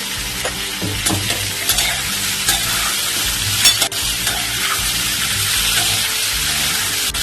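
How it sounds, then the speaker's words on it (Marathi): Sweet potato pieces sautéing in ghee, a steady sizzle with repeated stirring and scraping clicks of a utensil against the pan. "यांना आता आपण तुपात परतून घेऊ"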